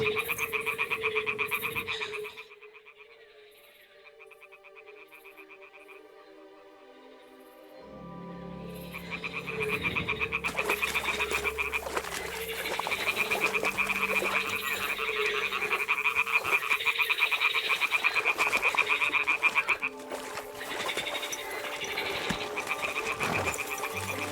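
Toads croaking in the medieval game Kingdom Come: Deliverance 2, a dense chorus of repeated croaks that drops out briefly, then returns louder and sustained, mixed with game ambience and no talk.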